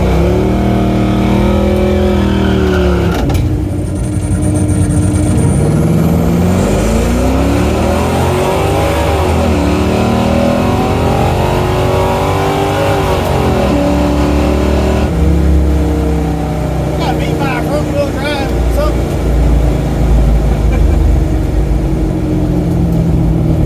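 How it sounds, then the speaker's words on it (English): A race car on its first time run at Music City Raceway revs hard and loud throughout, the engine note sweeping up and down through repeated climbs and drops. It sounds close and continuous, with no voices. "we're finally getting to make our first time run"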